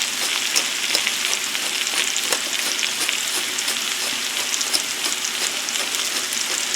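Vegetables frying in a hot skillet alongside steak and potatoes, a loud, dense, steady sizzle with fine crackling spatters throughout, close up and with no voices.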